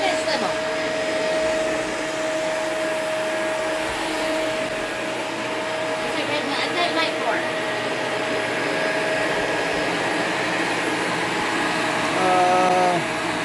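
A vacuum cleaner runs steadily throughout, with a loud, even motor whine and a few brief clicks of switches and attachments partway through.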